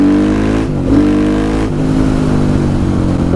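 A KTM 500 EXC supermoto single-cylinder engine with an FMF exhaust pipe runs loud and close, holding a steady throb with two brief throttle dips and recoveries.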